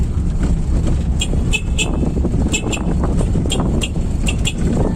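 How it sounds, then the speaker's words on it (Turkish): A Nissan Juke's horn toots several times in short, bright honks, close by, over a steady engine hum. "Kornası çok tatlı değil mi?"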